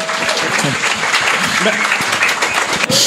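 Live podcast audience applauding, a dense, loud wash of clapping that runs throughout while people talk and laugh over it.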